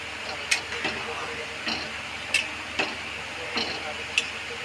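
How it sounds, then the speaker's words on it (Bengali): Boiled mung beans and pea dal in a pan being mixed, with a soft steady simmer broken by repeated scraping stirs at an uneven rhythm, close and moderately quiet. "এবার এটাকে ভালো করে একসঙ্গে মেশানো হচ্ছে।"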